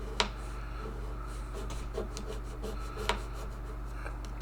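Scraping grime, skin and sweat buildup off the fretboard of a Yamaha guitar, a soft steady rasping rub with a few sharper clicks, close and fairly quiet against a constant low hum.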